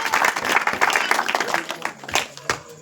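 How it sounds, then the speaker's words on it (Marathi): An audience at a felicitation ceremony in Nagapur welcomes a student with a burst of close, lively clapping that thins into scattered claps over a few seconds. "त्यांच्यासाठी पण आपण जोरदार टाळ्या वाजवूया"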